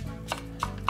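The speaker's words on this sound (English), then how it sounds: "So I'm going to just cut that up by hand." A knife chopping onion by hand on a board, three crisp separate strikes in under a second, close and clear.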